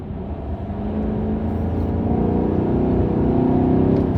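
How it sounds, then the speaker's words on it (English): A car engine is revved by its driver, a steady, loud mechanical roar that swells slightly after the first second and holds close and continuous with no talk over it. "Let me give you a little rev."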